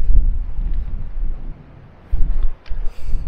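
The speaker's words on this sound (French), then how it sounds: "Le vent se lève." Wind buffeting a microphone in low, rumbling gusts at Ushuaia, easing briefly to near quiet before gusting strongly again.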